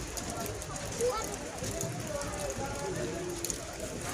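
Steady rain pattering on a busy street with a constant wash of noise, people talking throughout and occasional faint traffic or footsteps beneath.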